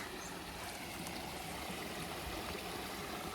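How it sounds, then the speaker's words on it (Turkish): A stream flows beside a hobby garden in Korudeğirmen village near Gönen, heard as a faint, continuous rushing hiss of water with a soft low rumble and no talk. "Şöyle şurada dere var. Onu da göstereyim size."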